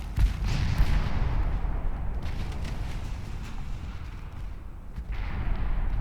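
Heavy naval guns fire in the warship game Ultimate Admiral Dreadnoughts, with a booming low blast followed by a long rumbling roll and a few further sharp reports.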